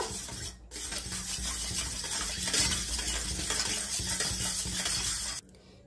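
A marinade mixture with a little salt, beaten steadily in a bowl as a continuous close scraping and swishing rhythm, ending abruptly after about five seconds.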